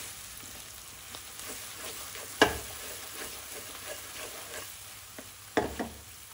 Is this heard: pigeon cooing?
no